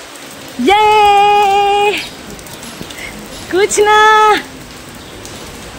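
Rain falls steadily in the background as a soaked woman arrives home. A soft, even patter runs throughout beneath two loud stretches of her speech.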